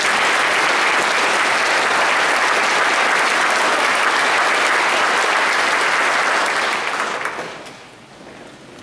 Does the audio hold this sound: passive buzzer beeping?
no